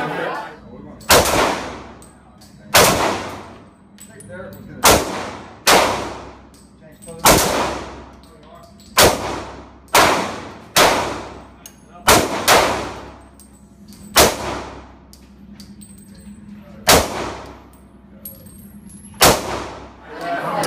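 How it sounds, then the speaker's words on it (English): Gunshots at target shooting, about a dozen loud sharp cracks spaced a second or two apart, each ringing with a metallic clang of hit steel targets and trailing off, with faint background talk between shots. "we started off shooting"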